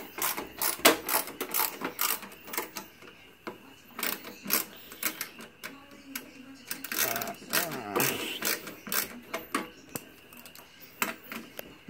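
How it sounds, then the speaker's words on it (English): Snap-on Racing Edition screwdriver backing screws out of a computer part with no removable back panel, giving a run of close, irregular clicks and ratcheting ticks with small metallic rattles. "This thing doesn't have a back panel that comes off, so I'm gonna just pull these screws out."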